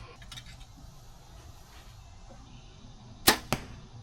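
An arrow from a Mathews compound bow strikes a target with two sharp, loud impacts in quick succession near the end, following quiet outdoor ambience.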